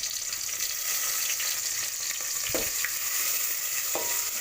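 Onion and bay leaf fry in hot oil in a pan for pulao, a steady close sizzle with a couple of sharp knocks from a utensil against the pan.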